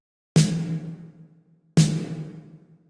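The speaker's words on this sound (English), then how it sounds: "it gives us a much punchier snare tone, which is what you're going for with these 80s gated reverbs" 80s-style gated reverb snare with compression after the reverb: two punchy, loud hits about a second and a half apart, each with a bright burst of reverb that decays briefly and cuts off, played alone.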